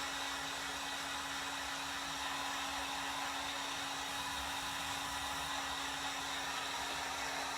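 Heat gun blowing steadily while drying paint on a fall topiary craft, a continuous airy roar with a low motor hum underneath, moderately loud and unbroken, with no talk.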